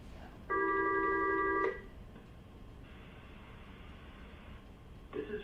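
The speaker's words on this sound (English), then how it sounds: "I don't know why the phone is ringing." A telephone rings once during a remote board meeting, a steady electronic trill lasting about a second over faint background hiss, then a quieter tone follows before a brief burst of noise.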